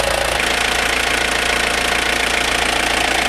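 Engine of a 1995 Mazda Bongo Friendee idling steadily after a new cylinder head install, a continuous loud rough hum with a fine rapid knock-like pulse throughout, close by and without speech.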